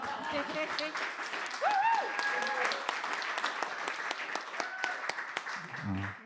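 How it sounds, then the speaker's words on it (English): A room full of people applauds, dense clapping that swells and carries on steadily, with a brief voice near the end. "big round of applause first, though."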